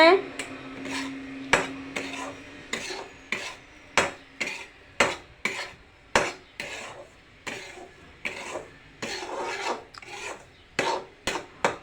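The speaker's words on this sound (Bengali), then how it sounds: "একটু ভালো করে ভেজে নিতে হবে।" Semolina fried in mustard oil in a pan and stirred with a spoon, about twenty rhythmic scraping strokes close by, each a short gritty rasp against the pan over a faint sizzle.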